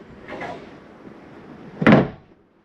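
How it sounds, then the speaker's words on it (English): The large outdoor storage compartment door on a 2024 Ozark 2430RBK travel trailer opens with a soft scrape, then gives a single louder thump as it swings or catches, close by with no voices. "Another big door."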